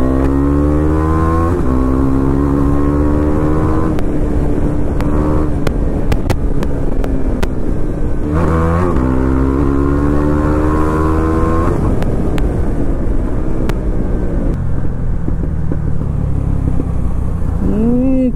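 A Suzuki GSX motorcycle with a modified exhaust idles loud and close, then revs up and down repeatedly in a steady throaty drone across the whole stretch.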